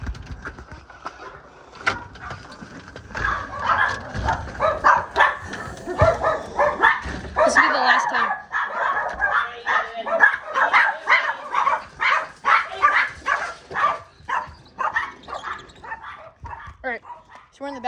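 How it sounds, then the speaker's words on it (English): Dogs bark repeatedly inside a house, a rapid run of loud, close yaps and barks that builds and continues steadily, with some faint talk underneath. "the dogs will bark a ton"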